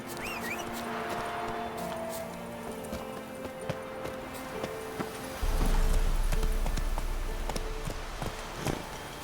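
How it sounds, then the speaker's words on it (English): Horse hooves clip-clopping at a walk in the video game Witcher 3, with steady hoofbeats close by over a soft outdoor ambience that swells partway through. "Come here, horse."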